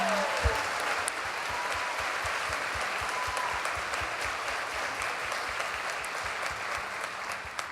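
Steady audience applause at an Irish traditional music concert honoring a performer, a broad, even wash of clapping over soft low thumps, sustained for several seconds.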